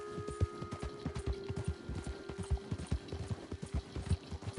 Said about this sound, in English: This Mustang, Well, that's nice. the best horse ever.